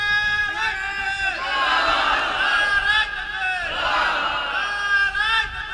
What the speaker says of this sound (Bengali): বড় করে তাকবীর দাও।